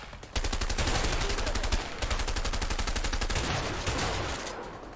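Gunfire in the video game A Way Out, a dense rapid rattle of shots that starts abruptly and continues nearly without break for several seconds, loud and close with a brief dip midway.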